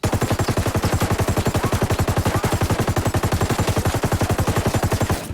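A light machine gun in Ghost Recon Wildlands fires one long, fast, unbroken automatic burst, loud and close, with evenly spaced shots for over five seconds and no talk.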